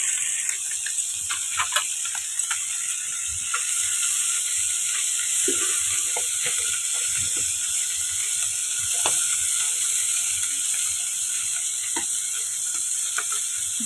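Small fish fry in hot oil in a village kitchen, a continuous bright sizzle with scattered crackles and pops, close and steady with occasional clinks of a utensil.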